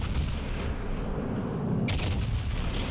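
A battleship's main guns fire a salvo in the naval game World of Warships Legends, a heavy rolling boom over a constant low engine-like rumble, with a bright burst of hiss near the end and no voices.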